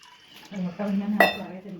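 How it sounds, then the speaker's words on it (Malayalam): A metal cooking pot is set down for boiling eggs, giving one sharp, close clank partway through over a faint, steady tonal hum. "നമുക്ക് ആദ്യം ഈ പാത്രം വെക്കാം അതിലേക്ക് വെള്ളം ഒഴിച്ചു കൊടുക്കാം"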